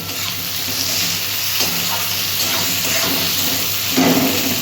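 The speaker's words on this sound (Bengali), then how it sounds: "তাতে পেঁয়াজটা একটু নরম হয়ে যাবে, ভালো ভাজা হবে।" Onions seasoned with salt fry in hot oil, giving a loud, dense hissing sizzle with a low background hum and faint stirring scrapes.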